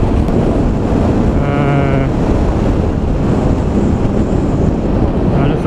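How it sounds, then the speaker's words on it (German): Strong wind buffets the microphone in a constant low roar, with a brief tonal whine partway through. "Ist mir jetzt auch eh ein bisschen zu laut und zu windig"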